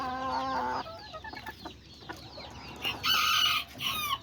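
A rooster crows loudly and close by, followed by softer clucking and a second crow-like call, with no talking.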